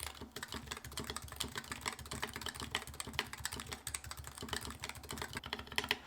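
Fast, steady typing on a mechanical EC keyboard, dense clicky keystrokes with occasional heavier stabilized-key thocks, close but quiet, with no voices.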